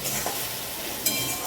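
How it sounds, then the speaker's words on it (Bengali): A spice paste of ginger, garlic, green chilli and red chilli powder fries in oil for a Bengali rita fish curry, giving a dense, close sizzle with a few short scraping stirs. "মশলা কষে তেল ছেড়ে দিয়েছে"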